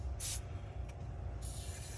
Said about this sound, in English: we're spray a little bit of silicone up in there